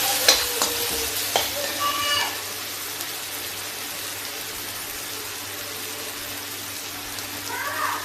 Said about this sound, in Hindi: देखिए टमाटर हमारा भून रहा है।